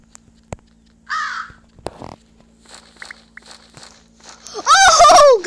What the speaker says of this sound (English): let's use these crows right away.